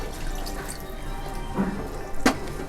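Water is added to a pot of Chettinad-style mutton kulambu curry, heard as a couple of brief close splashes and pours over a low kitchen background.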